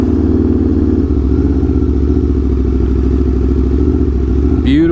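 A Triumph Daytona 660 idles close by on a sunny beachside road, a loud, steady, even engine burble that holds for several seconds before a brief rising blip at the end.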